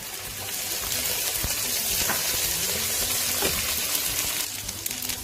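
Onion frying in a pan with ginger garlic paste makes a steady, loud sizzle with some stirring scrapes, close up, heard alone.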